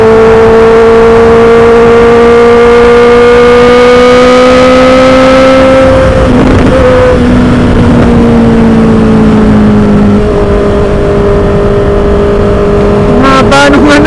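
Honda CB650R E-Clutch motorcycle engine while riding, a steady loud inline drone with a clear pitch that drifts lower, briefly shifting around the middle, then settling into a steady cruise, with a short rev flutter near the end.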